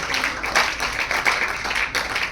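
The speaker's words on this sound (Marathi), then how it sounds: "आपण पुन्हा एकदा त्यांचं टाळ्या वाजवून त्यांचं पुन्हा एकदा कौतुक करूया" An audience applauds successful students at a competitive-exam guidance event, a steady burst of many hands clapping together at moderate loudness with slight swells, no voices over it.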